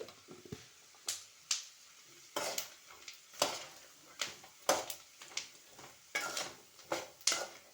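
Peanuts with chili powder being stirred in a pan, a series of sharp scraping and rattling strokes at an uneven rhythm, close and moderately quiet with faint sizzling beneath.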